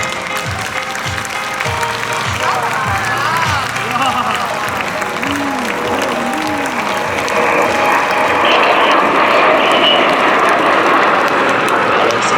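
Crowd applause at an air show marking the 70th anniversary of the Patrouille de France, a steady wash of clapping under the whine of jet aircraft, with an announcer speaking over it.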